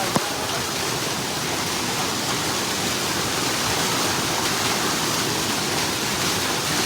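A hidden waterfall in Tripura, crowded with picnickers, sends up a steady, dense roar of falling water. It sounds close and unbroken, and no one speaks over it.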